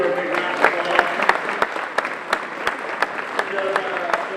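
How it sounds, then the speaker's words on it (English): A football banquet audience gives a round of applause, a moderate crowd of clapping with distinct individual sharp claps standing out, and some voices talking underneath. "Let's give her a big round of applause."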